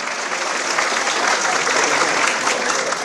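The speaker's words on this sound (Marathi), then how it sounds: "जोरदार टाळी वाजवा" Audience applause at a Marathi political rally speech, a dense, steady clapping crowd sustained loudly throughout without a break.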